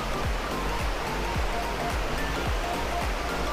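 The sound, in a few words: Bega Falls waterfall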